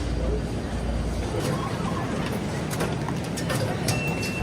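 Taipei airport express metro train arriving at a station, a steady rumble with rail noise and scattered metallic squeals, heard amid background crowd chatter and a voice talking nearby.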